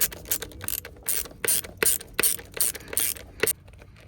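A tool tightens screws on a Tesla Model S or X steering-wheel scroll wheel assembly, heard as a dozen or so quick, close ratcheting clicks in irregular short bursts.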